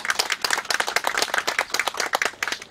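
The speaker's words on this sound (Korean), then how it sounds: "한 분 한 분 소개할 때마다 큰 박수를 주시면 고맙겠습니다." At a rice transplanting demonstration event, a crowd of guests gives a lively round of clapping for introduced dignitaries, the claps crisp, close and irregular, continuing throughout without speech.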